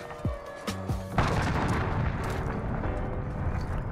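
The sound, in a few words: enemy cruise missile strike in video game Modern Warfare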